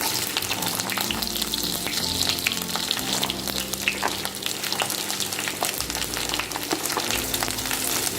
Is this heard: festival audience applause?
no